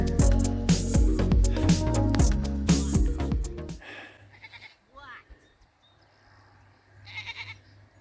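Goat kids bleat in a pen, several short nasal cries heard up close after a stretch of loud background music, with quieter breathy calls between them.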